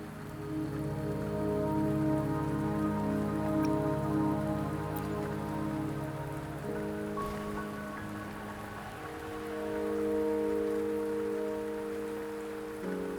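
Steady rain falls across an outdoor scene in the Wuthering Waves game, a constant close patter on surfaces beneath a low tonal music bed, with no voices.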